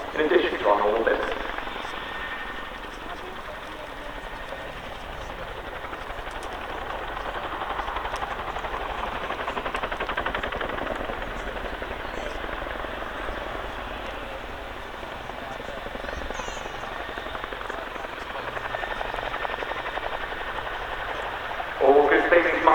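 An RAF Chinook twin-rotor helicopter performing a flying display at an airshow; a broad, sustained rotor and engine roar that swells slightly at the start and end, heard at a distance with an announcer talking over it.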